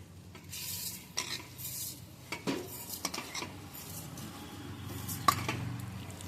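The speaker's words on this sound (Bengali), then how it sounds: "এবার চালটাকেও আমি ভালো করে নেড়ে আর একটু ভেজে নিচ্ছি" Rice for Basanti pulao is stirred and fried in a pan over low gas, a spoon scraping and clinking against the metal with a faint steady sizzle underneath, close and without talk.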